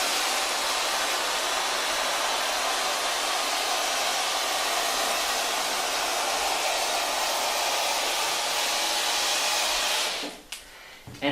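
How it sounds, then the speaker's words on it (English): A steamer runs on a chair to kill bed bugs, giving a loud, steady, close hiss that holds unbroken for about ten seconds before cutting out, followed by a few soft knocks. "we're going to start our steamer"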